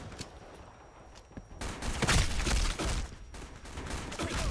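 Sniper rifle pre-fire in the Black Squad first-person shooter, a few sharp gunshot cracks amid a dense spray of game gunfire and impacts, loud and busy throughout.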